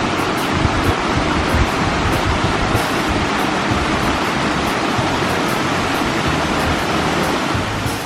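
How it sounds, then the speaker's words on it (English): Nojoqui Falls pours heavily after days of rain, a steady, broad, unbroken roar of falling water that stays loud and even throughout, with no voices. "There's the waterfall."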